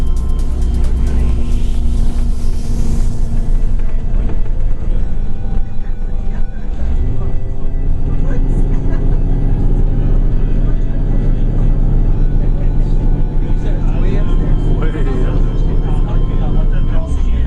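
Large special bus climbing a narrow mountain road toward the Eagle's Nest, heard from inside as a loud, steady engine rumble with road noise and a rising strain at the start.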